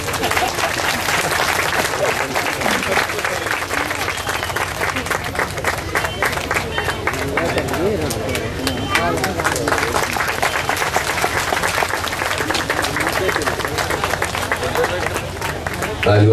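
Sustained applause from an audience at a felicitation ceremony, dense steady clapping from many people throughout, with a voice speaking over it.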